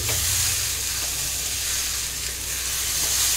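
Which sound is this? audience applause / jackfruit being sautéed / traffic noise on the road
jackfruit being sautéed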